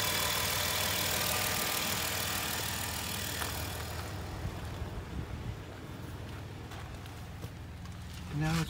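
A 2008 Dodge Caravan minivan idles just after startup, its engine running high and steady before dropping to a lower, rougher idle, heard close with a faint background hum.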